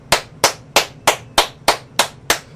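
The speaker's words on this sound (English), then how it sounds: "All the Ujamaa babies a round of applause" Eight sharp, evenly spaced claps about a third of a second apart, loud and close, at a toast celebration, standing alone without talk.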